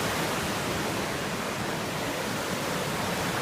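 A rushing mountain creek seen from a bridge on the Lakeshore Trail, a loud, steady, broadband roar of water that stays constant throughout with no voices.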